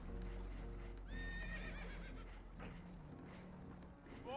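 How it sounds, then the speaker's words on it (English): Spooked horses neighing and whinnying in Red Dead Redemption 2, with a rising whinny over hoof clatter and a low rumbling background, fairly close, with no talk. "Horses are spooked"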